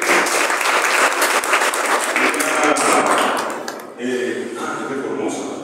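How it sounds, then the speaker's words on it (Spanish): A crowd applauds loudly and steadily at a poetry anthology presentation, dense clapping filling most of the stretch before briefly dipping and resuming, with voices murmuring underneath. "Un aplauso para Eugenia."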